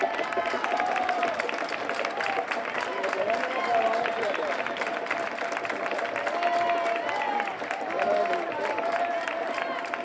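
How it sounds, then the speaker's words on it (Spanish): A crowd at the San Fermín neighborhood festival in Barbastro applauds and cheers, sustained dense clapping with crowd hubbub and voices calling out throughout. "¡Fuerte el aplauso!"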